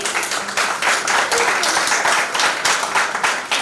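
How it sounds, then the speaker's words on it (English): An audience claps for student debaters at a high school law week debating competition, a steady, dense, fairly loud round of applause that holds evenly throughout. "as we give them a round of applause"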